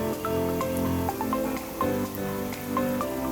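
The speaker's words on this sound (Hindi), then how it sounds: "नीचे से तलने शुरू हो गए हैं।" Soji (semolina) pakoras fry in hot oil over medium heat, giving a soft, continuous sizzle with scattered small pops and crackles. The sound is fairly quiet and close, with no voices.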